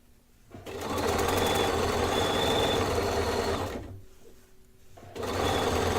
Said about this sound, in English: And you are going to stitch all the way down until about 2 stitches from the end.